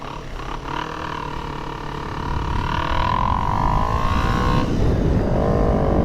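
A Honda CBR 250RR motorcycle accelerating hard, its rising engine note climbing steadily and growing louder over several seconds, close and continuous with no talking.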